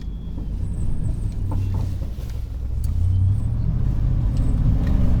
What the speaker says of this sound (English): And here we ride right through the bushes.